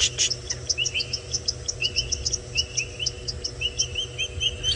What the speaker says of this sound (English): But I don't know what frogs they are.